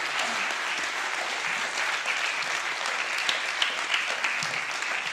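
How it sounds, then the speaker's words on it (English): Sustained applause from an audience at a film festival screening Q&A, a dense even wash of many hands clapping steadily for about five seconds with no voices on top. "let's give a round of applause to everyone here that worked on this"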